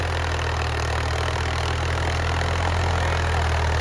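A tractor engine idles steadily and loudly, refusing to shut off, a constant low rumble with no pauses and no talk over it.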